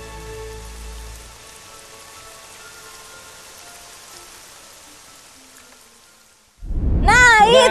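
Rain falls as a sound effect in a children's Bible story about Elijah praying for rain to end a drought. It comes as a soft steady patter that thins and fades out, then a loud burst of other sound takes over at the end.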